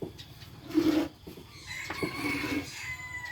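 A rooster crows on a farm in Suphanburi, Thailand, two fairly close crows with clucking fowl around, a moderate call against quiet background.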